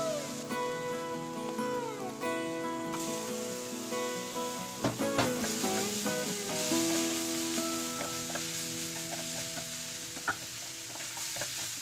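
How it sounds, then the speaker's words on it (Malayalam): Onions sautéing in a pan until golden brown for a restaurant-style chicken sukka, giving a steady sizzle with the scrape and clatter of stirring throughout and no talking. "സവോള നല്ല ഗോൾഡൻ ബ്രൗൺ നിറമാവുന്നത് വരെ അത് വഴറ്റ്."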